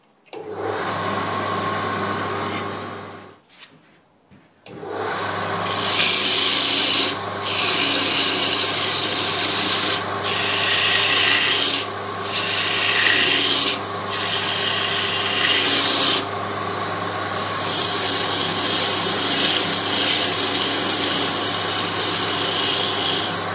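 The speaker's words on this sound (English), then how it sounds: "I like to use the round nose scraper and make slow, gentle passes." A lathe hums steadily while a round nose scraper rubs against a spinning burr elm bowl in slow, long hissing passes, broken by brief pauses, loud and close.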